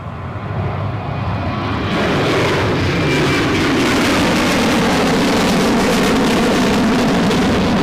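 A KLM airliner at Newcastle International Airport, its broad jet roar swelling steadily and growing loud as it passes close by, with no voices.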